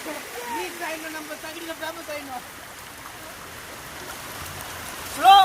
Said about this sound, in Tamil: தண்ணி சத்தத்தை கேளுங்க எந்த அளவுக்கு இருக்குன்னு